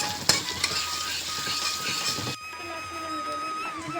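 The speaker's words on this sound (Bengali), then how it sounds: "এদিকে চিংড়ি মাছ ভাজা বসিয়ে দিয়েছে" Prawns frying in a pan, a loud continuous sizzle with a few utensil clinks that suddenly softens midway into a quieter hiss and crackle.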